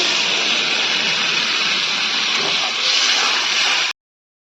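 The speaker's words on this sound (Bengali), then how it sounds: "আমি এই যে জল দিয়ে দিচ্ছি" Water poured into a pan of cooking soybean curry sets off a loud, steady hissing sizzle that lasts about four seconds and then cuts out suddenly, with no talk over it.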